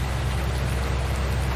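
Steady, dense rain loop from the Farming Simulator 19 video game, a constant hiss of rain and sleet with no pauses or other sounds.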